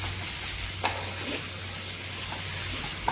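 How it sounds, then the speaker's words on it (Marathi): Amaranth leaf vegetable (tandulsa bhaji) being stir-fried in a pan: a constant loud sizzle with occasional scraping and stirring knocks close by, and no voices. "आपण भाजीमध्ये मीठ घालूया आणि भाजीला पुन्हा एकदा परतवून घेऊया"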